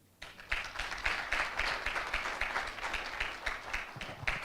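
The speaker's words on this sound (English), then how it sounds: "Ladies and gentlemen, a round of applause for Sharon Uchono." An audience applauds a moderator at a business event, clapping bursting in suddenly and continuing as a steady, fairly distant patter for several seconds.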